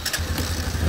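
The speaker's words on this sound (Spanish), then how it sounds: "Vamos a arrancar la moto." A motorcycle engine with a carburetor firing up, a short burst of low rumbling engine noise that settles into a steady idle, close and fairly loud.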